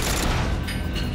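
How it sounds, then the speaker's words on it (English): Dense, noisy bursts of bullets ricocheting in GoldenEye 007: Reloaded fill a short, loud stretch, with a constant roar of overlapping impacts and no quiet gaps. "Oh, nice ricocheting sound."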